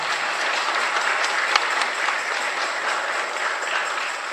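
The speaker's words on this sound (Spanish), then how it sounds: "le damos un caluroso aplauso al Padre" A church congregation at Mass claps warmly for the priest, dense steady applause filling the room without a break for the whole stretch.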